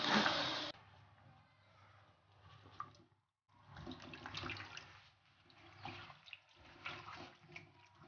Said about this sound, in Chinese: 咱们现在呢把这个钱啊全部都弄来洗一下